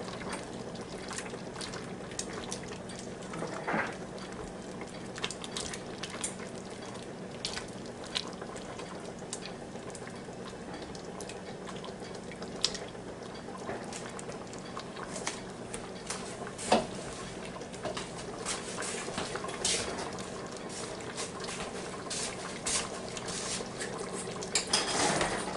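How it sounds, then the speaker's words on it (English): Beef stroganoff with noodles bubbling in a Ninja Foodi multicooker, a soft continuous simmer with scattered pops and small bursts, fairly faint and heard close up without talk. "That's bubbling pretty good now. You might be able to hear it."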